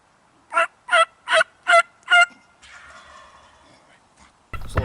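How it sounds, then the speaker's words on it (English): A wild spring turkey gobbles five times in a quick, evenly spaced burst, loud and fairly close, about 200 yards off, followed by quieter rustling ambience and a sudden low thump at the end. "We haven't heard a gobble since freaking last Sunday at 5 in the morning, and here we go. We just got a response."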